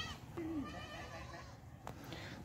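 Goats on Al-Noor goat farm in Pakistan: one short, wavering bleat rises above a steady bed of farmyard background noise, fairly faint and heard only once.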